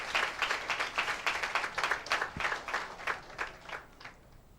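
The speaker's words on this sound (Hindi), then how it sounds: "क्या एक जोरदार ताली प्रभु यीशु मसीह के नाम को दे सकते हैं?" An audience in a church service claps together in a steady rhythmic beat, moderately loud at first and then thinning and fading toward the end, with no talking over it.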